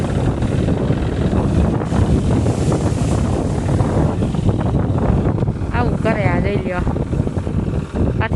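Strong wind blows across an open farm field where tractor work is under way, buffeting the microphone with a loud, continuous rumbling roar while a person talks over it.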